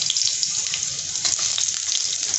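Garlic frying in a pan for besan pitla, a steady bright sizzle crackling close up with faint stirring underneath.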